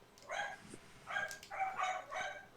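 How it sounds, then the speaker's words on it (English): A dog barks in a room: four or five sharp, fairly close barks come in uneven bursts with short gaps and a small yip between them, and no voices are heard. "Shut that damn dog up."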